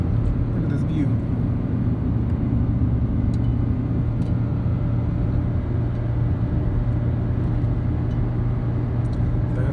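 A Chevy Colorado with a 2.5L engine tows an Impala uphill in third gear around 3,000 RPM, a constant low droning engine and road rumble from inside the cab, with a person talking over it.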